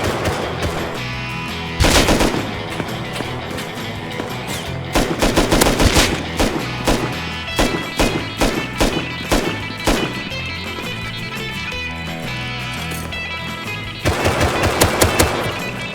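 Rapid machine-gun bursts and single shots crack loudly in the survival game Rust, coming in clustered volleys with short pauses and dense automatic fire near the start and end.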